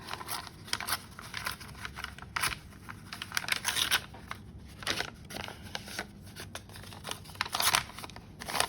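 Scissors trim the edges of tea-dyed paper with a series of crisp, close snips and rustles, irregular and fairly quiet, with no talking.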